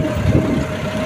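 A John Deere 5210 tractor pulling an Umiya plough in a field, with a steady loud engine drone and a low rumbling chug close by, no voices over it.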